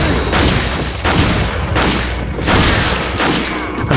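A shotgun fires repeatedly in Resident Evil 4, with loud, booming blasts at roughly one-second intervals amid dense game noise, and some speech mixed underneath.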